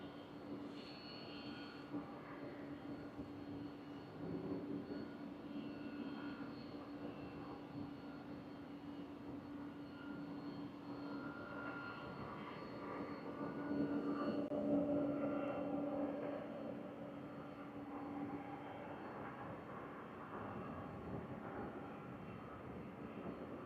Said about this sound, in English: Looks like a Delta 737 going to be cutting in line.